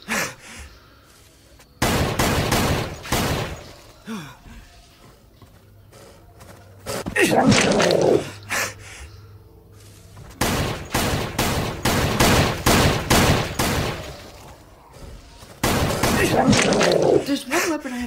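Video game gunfire from a Colt pistol, a shotgun and an M4A rifle, loud rapid bursts and repeated single shots in several separate volleys with short quiet gaps between them, near and dominant, with a voice speaking in places.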